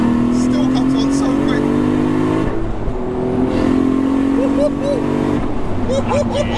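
A 1100bhp 2JZ turbo Lexus sleeper pulls hard in fourth gear, a loud droning engine note rising in pitch with gear shifts and turbo whooshes, heard from inside the car under speech.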